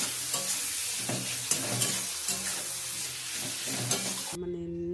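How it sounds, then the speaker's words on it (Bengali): Chicken masala fries in a pan while being stirred, with continuous sizzling and repeated scraping and knocking of a spatula, then a sudden stop and a short hum at the end. "নাড়াচাড়া করে আবার ঢাকা দিয়ে দিচ্ছি, আবার একটু পরে ঢাকাটা খুলে আবার একটু নাড়াচাড়া করে নিচ্ছি"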